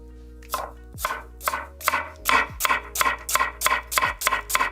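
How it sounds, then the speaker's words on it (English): A Nakiri vegetable knife chops through vegetables on a board in about a dozen crisp, evenly spaced strokes that quicken toward the end, close and clear with no talking. "let's try the Nakiri, the veg chopper."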